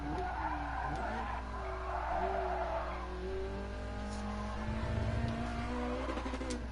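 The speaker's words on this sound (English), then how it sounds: "This car sounds really good. It has a raging V8." A raging V8 supercar engine in the Gran Turismo Sport racing game roars steadily with rising and falling revs while tires skid and squeal almost continuously, loud and close, with no talking.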